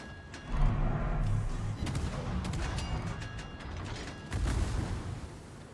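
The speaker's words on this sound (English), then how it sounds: "Concentrate fire on the enemy warship." Heavy naval guns boom in World of Warships with repeated, overlapping blasts over a constant mechanical rumble, some shots sharp and close, others dull and distant, and no one speaking.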